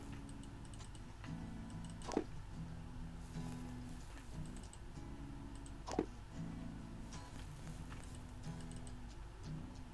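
Computer keyboard keys tapped while playing a video game, a steady faint patter of clicks over constant game music and ambience, with a couple of louder isolated clacks.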